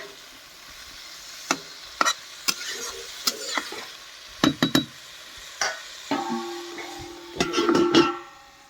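Saag being stirred in a pan with a light sizzle beneath, sharp scraping clicks of the spoon landing at irregular intervals, plus a brief steady tone near the end.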